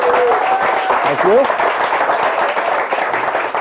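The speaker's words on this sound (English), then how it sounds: "please give him a round of applause" A crowd applauds in steady, dense clapping while voices speak briefly over it.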